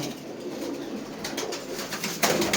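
Pigeons of various sizes kept for sale coo steadily and softly for a few seconds, with a slightly louder burst of calling near the end and no talk over them.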